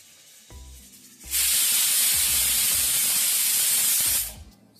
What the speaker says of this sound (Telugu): సో విజిల్ అయితే వచ్చేసింది